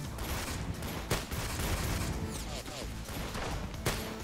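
Revolver gunfire in the Roblox video game, a few sharp cracking shots spread through a busy, noisy game mix.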